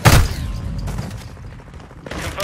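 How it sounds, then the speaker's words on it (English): A stun grenade detonates in Modern Warfare 2 Hardpoint on the Dome map, a sharp close blast at the start followed by a dense wash of gunfire and game noise for the rest of the moment. "Stun grenade out."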